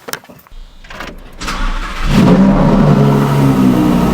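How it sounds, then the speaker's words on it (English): A track car modeled on Super Trofeo racers revs hard, its engine note climbing from a start into a loud, sustained roar that builds over a few seconds, close by with no talking. "In fact, this is a track car. This is inspired by Super Trofeo."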